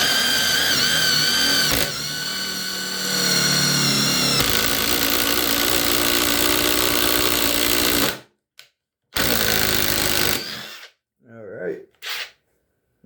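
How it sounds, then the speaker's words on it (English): A Ryobi impact driver whines loudly and continuously for several seconds as it bores a 3/8 inch twist bit into lumber, then stops, followed by a few short bursts and quiet gaps. "let's see how long it takes for them, or for the Ryobi to drill a 3/8 inch twist bit hole"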